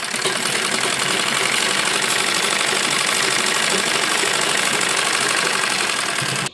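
A sewing machine stitches an alteration on a readymade kurti and pajama suit, running as a continuous, fast mechanical whirr with a rapid needle rhythm, steady and close for several seconds before it stops abruptly.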